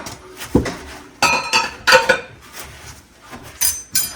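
Butter ball cookie dough being stirred in a bowl, heard as a few scattered clinks and scrapes of a utensil against the dish, fairly close, with no talking.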